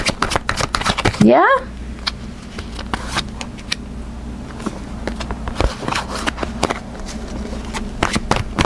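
Tarot cards being shuffled and drawn at a table: repeated quick riffles and soft flicks of card stock, close and fairly loud, with a short spoken word over them.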